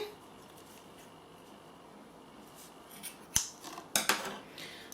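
Scissors cutting during a tea-making demonstration, two or three sharp close snips after a quiet stretch of low background hiss.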